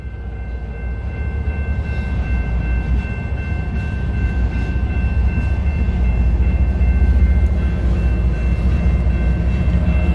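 A CN eastbound manifest freight train with a mid-train distributed power unit rolls past at close range through Battle Creek, Michigan, a loud, steady rumble of wheels and cars with a faint high squeal running throughout.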